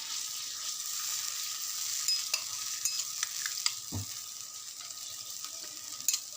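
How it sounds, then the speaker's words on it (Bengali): Tamarind water simmers in a pot with a faint, steady bubbling hiss while raw fish rubbed with salt and turmeric goes in, with a few soft clinks and splashes along the way. "যখন টকবক করে ফুটবে তখন আপনাদের কাঁচা মাছগুলো, নুন হলুদ মাখানো কাঁচা মাছগুলো দিয়ে দিতে হবে এর মধ্যে"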